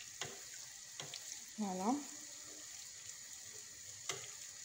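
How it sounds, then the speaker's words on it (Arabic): Flower-shaped beignets deep frying in oil, a quiet continuous bubbling hiss with a few sharp clicks, and a brief spoken word partway through. "فوالا ونكملوا نقلوها بشكل عادي. توجور نديروا لها الزيت من الفوق باش تتنفخ"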